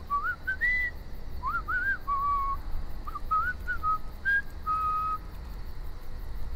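A character in The Walking Dead video game whistles a wandering melody of short rising and falling phrases, clear and close over a steady low background hum.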